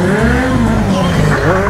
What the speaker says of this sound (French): Voilà des demi-tours faciles et simples.